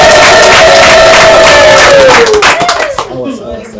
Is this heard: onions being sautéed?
no